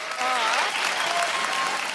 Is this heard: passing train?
no